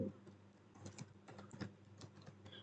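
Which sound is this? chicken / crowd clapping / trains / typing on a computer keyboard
typing on a computer keyboard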